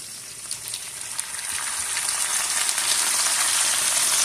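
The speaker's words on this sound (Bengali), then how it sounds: "এখন আমি এর সঙ্গে এক এক করে সমস্ত মশলাগুলো দিয়ে দিব। পেঁয়াজ বাটা দিয়ে দিব," Onion paste and spices fry in a pan for a fish dish cooked with potato and poppy seed. A bright, hissing sizzle grows steadily louder and stays close and continuous, with no talking.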